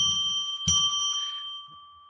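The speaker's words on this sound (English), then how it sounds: "I'm going to ring a bell 3 times now to declare sacred space" A bell is struck once, its bright ringing tone sustaining and slowly fading over about two seconds, with a low murmur before the strike and after it.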